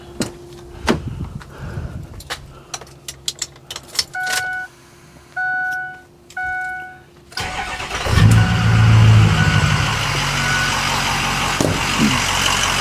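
6.0 Powerstroke diesel pickup truck with its canopy removed, engine already warm, not a cold start: clicks, a door, and several short electronic chimes, then the engine fires up and settles into a loud, steady idle rumble close by.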